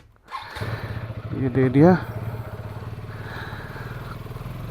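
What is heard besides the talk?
KTM ADV 250cc motorcycle engine running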